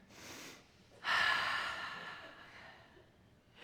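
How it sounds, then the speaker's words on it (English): A group takes a deep breath together: a short breath, then a louder, fuller inhale that slowly fades into a long, soft exhale, heard close and without talk. "let's all take a deep breath together"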